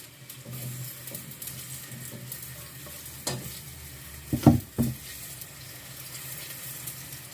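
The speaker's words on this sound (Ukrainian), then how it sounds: "Так, олійка підігрілась. Кидаємо цибулю. Просто у каструльку." Chopped onion hits hot oil with a sizzle that continues steadily, followed by a few scraping stirs of a utensil in the pot.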